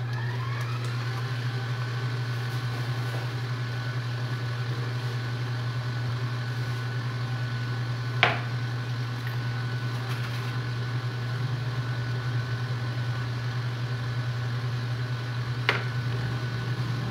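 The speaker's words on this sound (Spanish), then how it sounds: "vamos a poner a trabajar la batidora" An electric cake mixer runs with a steady, even motor hum while themed cakes are decorated, continuous and moderately loud with no talk over it, apart from two brief clicks.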